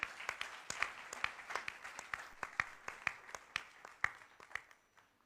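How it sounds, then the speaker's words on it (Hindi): A church congregation claps to welcome a speaker: sharp, evenly spaced claps ring out in a steady rhythm through a reverberant hall, then thin out and stop, with no voices over them. "आ जाइए, ताली बजा के उनका स्वागत करें।"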